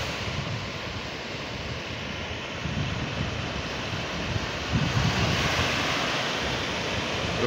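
Ocean waves breaking steadily at Drill Hall Beach on the southwest coast of Barbados, a surfing beach, with a continuous broad wash of surf and wind noise that swells slightly near the end.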